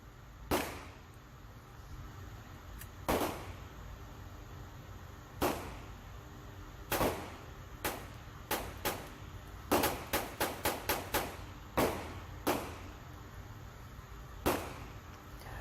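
A Colt 1911 .22 pistol fires about eighteen sharp cracks, first spaced a second or two apart, then in a quick string of rapid shots, and then a few slower ones after it.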